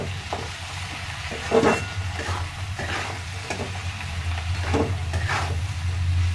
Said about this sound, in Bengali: লবণ দিলাম, লবণটা দিয়ে আরেকবার নাড়িয়ে নেব।